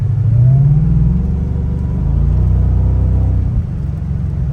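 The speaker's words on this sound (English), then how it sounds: "There's a hell of a V6 going right now." Cadillac CTS-V V6 engine idling rough with a misfire and a blinking check-engine light, a loud, steady low rumble with an uneven, lumpy pulse and a brief rising whine near the start, no talking.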